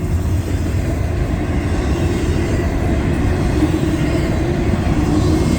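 CSX intermodal freight train rolls steadily past at Bloomdale, Ohio, its wheels carrying flat spots, producing a continuous loud low rumble and clatter with no breaks, close by.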